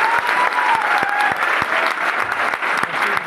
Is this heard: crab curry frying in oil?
no